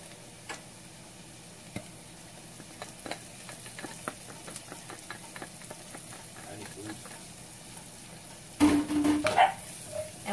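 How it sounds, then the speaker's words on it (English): Garlic goes into a pan of browned sundried tomatoes over low heat, with a soft, steady sizzle and light stirring ticks that swell into a louder, busier crackle near the end. "Now I'm going to put all my garlic in."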